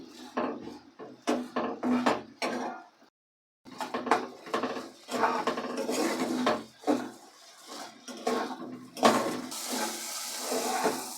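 Spiced crabs coated in salt, turmeric, mustard oil and chilli powder being stir-fried in a pan, heard as a clatter of utensil scrapes and knocks with a soft sizzle, in uneven bursts and one brief silent gap.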